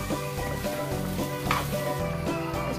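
Chicken pieces frying in ghee with garam masala and turmeric, a continuous close sizzle with repeated rhythmic spatula scrapes and stirring knocks against the pan.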